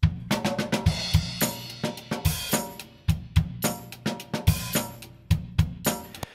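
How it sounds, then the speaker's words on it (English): A full traditional drum kit recorded with overhead and room mics plays a groove of punchy kick and snare hits under bright cymbal wash, with fills and crashes and no talking. "So this is more traditional kit with overhead rooms and things like that."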